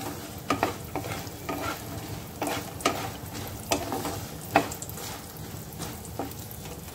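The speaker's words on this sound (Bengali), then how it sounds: "আমি রসুন আর লঙ্কাটাকে একটু অল্প থেতো করে নেব" Crushed garlic and green chili fry in oil in a kadai, giving a steady close sizzle broken by a spatula's regular stirring scrapes and knocks.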